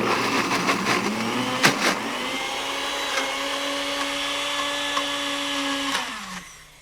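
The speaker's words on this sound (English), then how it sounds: "now I'm going to pop it in my NutriBullet" A NutriBullet blender whirs steadily as it purees a sesame seed mixture, a loud continuous motor hum with a sharp knock near the start, holding its pitch before spinning down and fading at the end.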